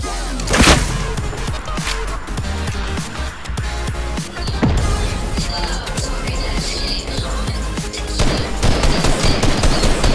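Heavy sniper rifle fire in a shooter game, with dense bursts of gunfire and sharp loud reports layered over busy combat noise that keeps up for the whole stretch.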